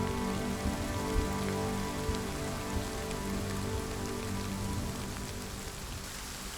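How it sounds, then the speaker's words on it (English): Steady rain falling on a surface, a dense continuous patter at even loudness throughout with no voices. "it's raining."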